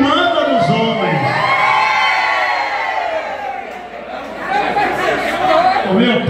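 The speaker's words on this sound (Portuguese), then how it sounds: "Eu quero ouvir agora o grito dos homens." A crowd of men at a birthday party shouting and cheering together in one loud, sustained roar of voices, with a brief dip midway before it swells again.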